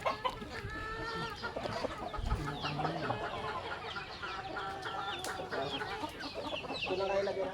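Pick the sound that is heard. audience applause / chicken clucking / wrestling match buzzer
chicken clucking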